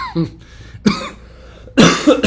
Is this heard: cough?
yes